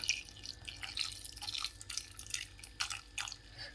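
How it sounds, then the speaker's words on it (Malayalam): About half a cup of water poured into a cooking pan in short splashy bursts, a bright trickling and spattering sound, close and moderately quiet. "കുറച്ച് വെള്ളം ചേർത്ത് ഒരു അരക്കപ്പ് വെള്ളം ചേർക്കാം"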